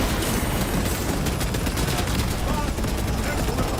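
Sustained suppressing gunfire in Space Marine 2, a player-versus-player shooter game, as a dense, loud and continuous automatic stream of shots with no breaks.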